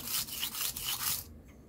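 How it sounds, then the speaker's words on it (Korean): A leather-cutting shoe knife is honed against coarse 120 to 250 grit sandpaper in long, even rasping strokes, about five close gritty rubs in quick succession before the scraping stops abruptly. "시작은 120번이나 250번 같은 낮은 번수의 사포로 연마를 진행합니다"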